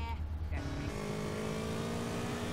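Police motorcycle engines idling in GTA San Andreas, three parked side by side, with a steady low rumble that continues under the player's talking.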